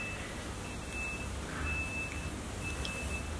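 Three evenly spaced high-pitched reversing beeps from a truck turning around sound from a distance over a low, steady background rumble.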